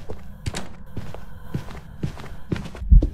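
A ghost walks during a hunt in the video game Phasmophobia, a run of steady, fairly loud footsteps at a regular walking pace with soft thuds, ending in a heavier bump, under faint background ambience.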